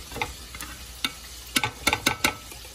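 Potatoes go into a frying pan with soft hissing and a run of sharp ticks and clatters as the pieces drop in and settle.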